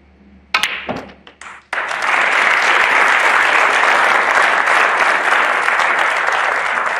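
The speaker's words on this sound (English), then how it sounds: "Deserved applause" Snooker crowd applauding a century break by Mark Selby at the 2021 Champion of Champions, a few sharp knocks from the table, then steady, loud, sustained clapping from a large arena audience.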